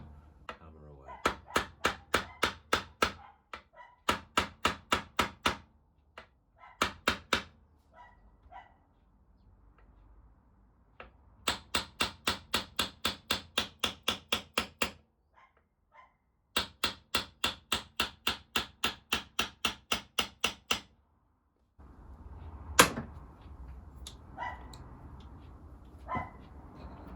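A hammer drives frets into a PRS kit guitar neck in rapid, regular bursts of sharp metallic taps, roughly a dozen strikes per burst, loud and close, with pauses and handling noise between them.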